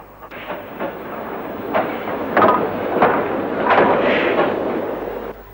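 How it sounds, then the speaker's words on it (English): A 5600 class steam tank locomotive chuffs steadily in the near distance at Pontypool as it runs round its train, its exhaust beats rising and falling over a rumbling, clanking train with no voices. "Our 5600 tank runs round its train using the middle road to achieve this."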